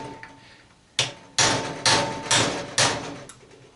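Five loud metallic hammer blows drive a cold chisel into an old scrap arc welder, evenly spaced about half a second apart, close and ringing, after a quieter tap at the start.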